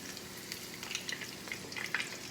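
Steady crackling sizzle of chicken schnitzel frying in hot oil, with bursts of sharper pops throughout; close and continuous, no voices.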